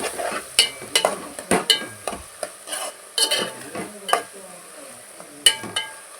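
Chicken pieces with a little turmeric frying in a pan for a chicken, dosakaya and potato curry, stirred with a utensil that scrapes and clinks against the metal in uneven bursts over a low background sizzle.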